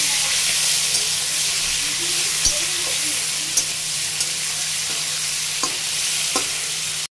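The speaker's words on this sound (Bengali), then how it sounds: "এখন আমি কড়াইয়ে তেল দিয়ে তাতে চিংড়ি মাছগুলোকে একটু ভালো করে ভেজে নেব।" Shrimp frying in oil in a wok, a steady close sizzle running throughout with a few faint clicks of stirring and no talking.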